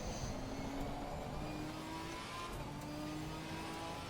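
Alpine race car engine in Gran Turismo 4 holding a steady, sustained drone with slowly rising pitch, a continuous mid-level game engine note throughout.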